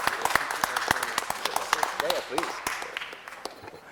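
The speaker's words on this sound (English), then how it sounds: "let's give him a round of applause" Scattered hand claps ring out at a city council meeting, a sparse round of applause with individual sharp claps and a few voices murmuring underneath before it tapers off.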